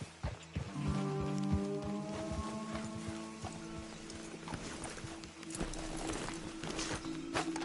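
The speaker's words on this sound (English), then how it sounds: "Let's leave the horses off the road to the right here." Horses clip-clop along a road in a video game, a steady run of hoof beats close by with a brief neigh and a rumble of wheels or gear underneath.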